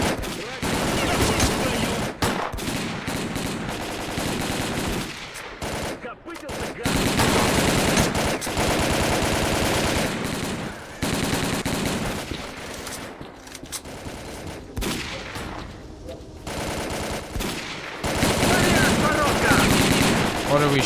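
Gunfire in the video game Stalker: Call of Pripyat comes as loud, sustained automatic bursts broken by brief pauses, with sharp reports and rattling volleys.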